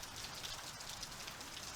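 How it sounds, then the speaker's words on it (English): Steady rain falls during outdoor work on a 1996 Isuzu Trooper, a dense, even hiss of drops on surfaces, faint but continuous throughout with no voices. "And as you can tell, it rains."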